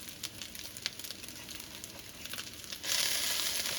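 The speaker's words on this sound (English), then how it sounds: "These will cook faster, these last three, because my pan is so good and warm." Fish cakes fry in a hot, well-warmed pan, giving a steady close sizzle and crackle that swells louder near the end, with no talking.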